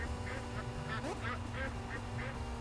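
Ducks quacking in the video game Legend of the Brofist, a string of short, repeated nasal honks at a moderate level over a steady game background hum.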